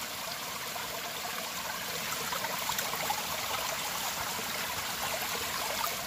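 A gold pan is swirled in water while panning gold from crevices, giving a continuous sloshing, trickling wash. The sound is close and steady with small splashes, and no voices are heard.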